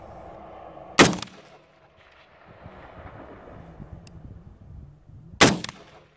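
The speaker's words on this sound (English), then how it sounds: "Shooting 110 grain, 300 blackout loads with H110." Two loud rifle shots of 110 grain 300 Blackout loads with H110 powder, fired outdoors toward a hill, each a sharp close blast with a brief outdoor echo, about four seconds apart amid faint wind.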